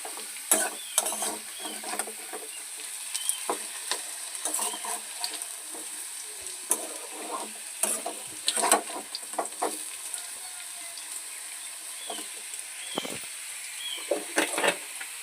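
Food sizzles and fries in a pan while being stirred, with repeated scraping strokes in an irregular rhythm over a steady background hiss, close by and moderately loud, with no talking.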